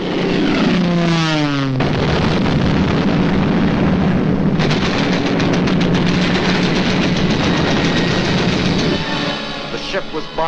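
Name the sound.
bombs exploding as the USS Panay gunboat is attacked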